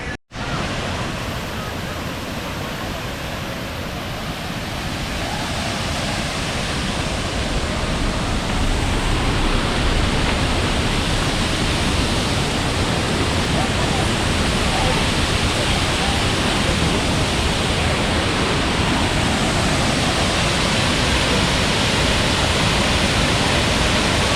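A waterfall roars as a dense, steady rush of falling water, loud and close, filling the scene without a break; no voices are heard.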